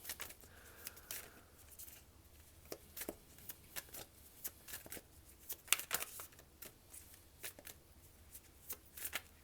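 Tarot cards are shuffled and drawn by hand, a steady run of soft riffling, slapping and sliding card sounds with sharper snaps, close and quiet, with no speech.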